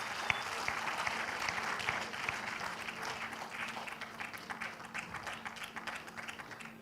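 An audience clapping at a smart-technologies conference, a soft, sustained patter of many hands heard from a distance and fairly faint, with a low steady hum underneath.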